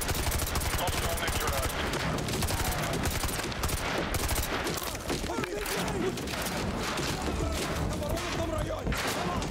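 Enemies in Call of Duty Modern Warfare 2 Remastered shoot in continuous, dense bursts of overlapping gunfire, loud throughout, with someone talking over the shooting.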